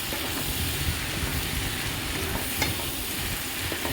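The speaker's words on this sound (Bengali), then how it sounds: "এবার ভালো করে সব কিছু মিশিয়ে নিচ্ছি" Pasta ingredients being stirred together in a frying pan, giving a steady, close sizzling hiss with soft scraping strokes running throughout and no voices.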